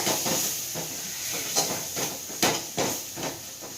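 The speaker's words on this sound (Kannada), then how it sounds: "ಧನಿಯಾ ಪುಡಿ, ಚೆನ್ನಾಗಿ ಸ್ವಲ್ಪ ಇದ್ರ ಜೊತೆನೆ ಫ್ರೈ ಆಗಲಿ." Coriander powder frying in a pan over a low flame, giving a steady close sizzling hiss with a few sharper crackles and pops scattered through it, with no voices.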